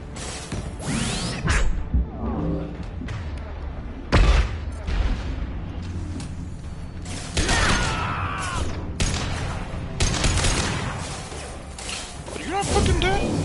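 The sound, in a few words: gunfire in video game Mass Effect 2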